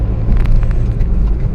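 A car drives along a road at night, its engine and tyre rumble steady and loud from inside the vehicle, a continuous low drone with no talk.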